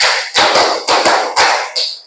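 Five crisp, loud group handclaps ring out in a classroom, arriving in a short rhythmic pattern with uneven gaps and no talking.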